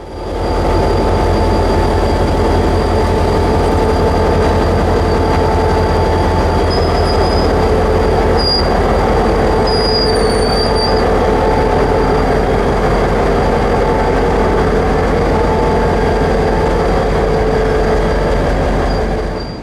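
A Seaboard System GP30 diesel locomotive, number 1030, rolls past with its train cars, a loud, continuous rumble and steady wheel noise, with faint squeals riding high over the drone.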